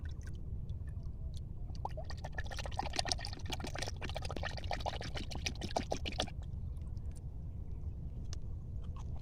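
Liquid herbicide mixture poured into a field of onion seedlings, giving a steady splashing pour that swells over the first six seconds and then thins to a quieter trickle, with faint low background rumble.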